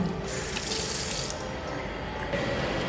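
An automatic hand-washing tap runs in a public restroom, giving a steady, close rush of flowing water with faint mechanical clicking underneath.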